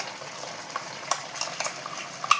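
A spoon stirs ground poppy seed paste, made with green chillies, into a pan of nearly dried potatoes, giving soft irregular scrapes with a light sizzle underneath and a few sharper clinks near the end.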